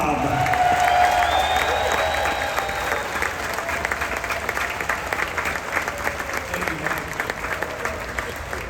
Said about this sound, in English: the biggest round of applause this morning, if you don't mind, for the master of the vessel